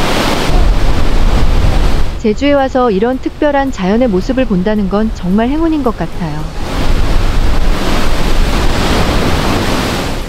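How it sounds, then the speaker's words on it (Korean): Loud, steady surf crashes against the basalt rock columns of Daepo Jusangjeolli on Jeju Island, with a person talking in Korean over the roar of the water in the middle stretch. "파도가 주상절리대에 부딪히는 소리 들리세요?"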